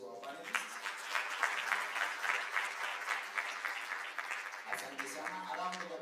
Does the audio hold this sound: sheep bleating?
no